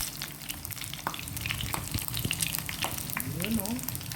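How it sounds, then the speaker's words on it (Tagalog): Chicken frying in a pan, a close, steady crackling sizzle with scattered pops and scraping stir sounds, and brief faint vocal sounds near the end. "Chicken fry tayo ngayon."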